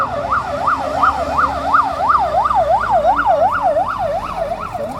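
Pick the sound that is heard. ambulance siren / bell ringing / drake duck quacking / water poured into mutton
ambulance siren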